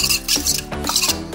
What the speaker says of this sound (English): And then we're gonna whisk this together.